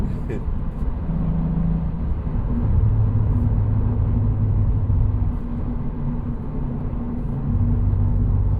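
A Cadillac CT4-V Blackwing engine pulls hard to pass on the road, a steady loud low drone rising in pitch over several seconds, with a brief dip and another swell near the end under constant road rumble.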